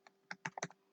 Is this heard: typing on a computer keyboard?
yes